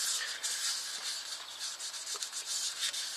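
Steady close scratchy rubbing as Titebond Instant Bond wood adhesive is worked by hand into the bowl and cracks of a turned yew goblet, continuous and fairly loud with no talk.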